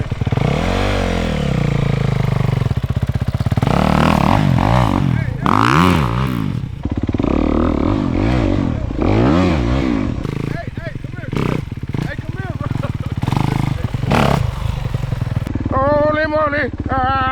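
Dirt bike engine revs hard in repeated rising and falling bursts close by, with sputtering idle between throttle blips and excited voices talking over it.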